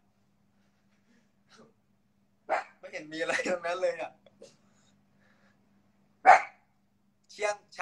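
A dog barks a few times in short sharp bursts at close range, mixed in with people talking in Thai during a live stream.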